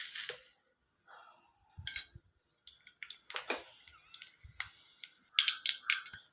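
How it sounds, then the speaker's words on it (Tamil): Mustard seeds and urad dal hit hot oil, giving close, irregular sharp crackles and sputtering sizzle bursts that grow busier after a quiet start, with no voices. "இப்போ எண்ணெய் காஞ்சிருச்சு. இதில் கொஞ்சம் கடுகு உளுத்தம் பருப்பு போடணும்."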